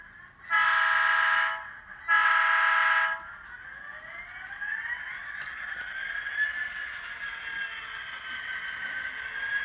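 A model train pulls three loads around a bend on a layout. Two long horn blasts sound first, then a steady whining motor hum rises and holds, close by and fairly loud.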